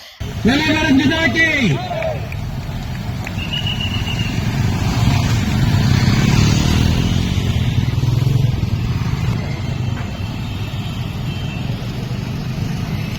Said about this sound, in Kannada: ಬೈಕ್ ಹಾಗೂ ಸೈಕಲ್ ರ್ಯಾಲಿಗೆ ಅಭಿನವ ಜೈನ ರಾಮಗೌಡ ಚಾಲನೆ ನೀಡಿದರು